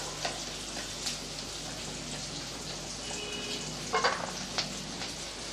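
Onions and curry leaves fry in a pan for a brinjal gravy, a soft, steady crackling sizzle with a few faint pops and clinks, quiet and close.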